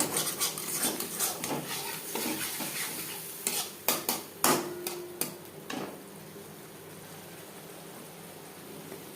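A utensil stirs onions and spices in a pan for a rohu fish and eggplant curry. Sharp scraping and clinking strokes come in bursts over a soft sizzle, then thin out into quieter frying.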